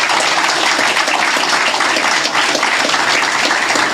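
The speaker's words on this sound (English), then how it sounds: "I think we should give him a special round of applause" Sustained, dense applause from an audience at a tourism ambassador announcement in Saint Lucia, loud and even throughout, with no voices heard.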